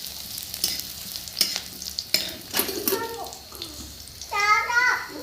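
Onions sizzle in a hot pan with a few sharp stirring scrapes and clinks, while a voice speaks briefly over the frying toward the end.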